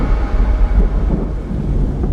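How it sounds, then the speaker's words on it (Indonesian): Heavy rain in a storm, a loud, dense low rumble and wash that holds steady and close for the whole stretch, with no speech. "Saat itu sedang hujan deras"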